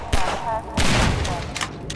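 Gunfire in Half-Life 2 cracks out in a few loud, close bursts over about two seconds, mixed with excited talking from a person.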